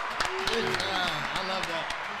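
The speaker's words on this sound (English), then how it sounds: "Let's hit the applause button on that one." A canned applause sound effect is triggered during a live-streamed birthday chat. It gives short bursts of clapping mixed under ongoing talk.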